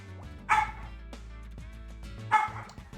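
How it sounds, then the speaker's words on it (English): A dog barks out on a terrace in two sharp, loud bursts about two seconds apart, with quieter yips and whimpers between them over low background hum. "Dog is very happy because Dog has snuck out on the terrace and can bark at the neighborhood."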